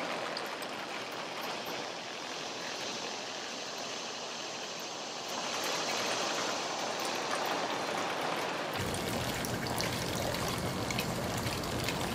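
Cold well water from a driven sand-point well is pumped into a bucket, making a steady splashing and pouring rush that grows louder and brighter partway through, with no talking.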